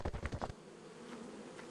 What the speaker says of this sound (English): I lured them. I grabbed the bees.